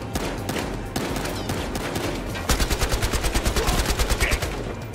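Gunfire in Battlefield Hardline, with sporadic loud shots at first that give way to a rapid, rhythmic automatic burst of close, punchy reports.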